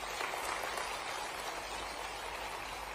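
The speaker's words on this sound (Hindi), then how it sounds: "इसलिए मुख्यमंत्री जी का एक बार जोरदार ताली बजाकर अभिनंदन करते हैं।" An outdoor crowd at a public event in Rewa, Madhya Pradesh, applauds to welcome the Chief Minister with dense, even clapping that holds steady for three seconds and sounds rather distant.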